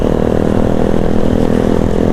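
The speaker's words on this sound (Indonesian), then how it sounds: "Ya enak juga nih yang knalpot brong yang di depan ini" A two-stroke motorcycle with a loud open exhaust rides along a road at night, a rough continuous engine drone, close and loud throughout with no talking.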